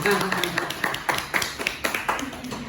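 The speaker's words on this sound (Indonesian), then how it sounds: "Cukup kita kasih aplaus kepada pemateri kita" Audience applause at a university lecture on Islamic inheritance law, a handful of hands clapping in a steady, fairly sparse rhythm at moderate loudness, with faint voices in the background.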